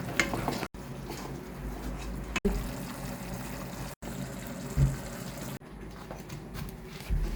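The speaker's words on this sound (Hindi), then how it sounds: "इसको अच्छी तरह मिक्स करें. Ga goed roeren." Brinjal coated in masala is stirred on a hot tawa, a steady scraping and sizzling texture with soft clatter, broken by several abrupt dropouts.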